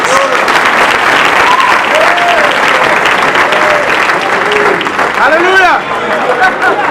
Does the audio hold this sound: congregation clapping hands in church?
yes